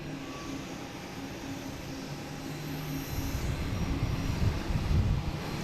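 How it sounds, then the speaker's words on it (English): Airbus A380 airliner flying over Pleasure Bay, a low rumbling engine roar that builds steadily in loudness as it approaches from afar. "A380 over Pleasure Bay"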